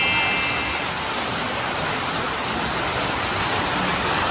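Steady rain pours down in a dense, even hiss, close and constant with no voices.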